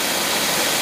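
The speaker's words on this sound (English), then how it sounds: "Okay, no load, light load, boat's idling" A jet boat engine idling with no load, a steady close roar with an even low throb and broad rushing hiss, continuous with no talking.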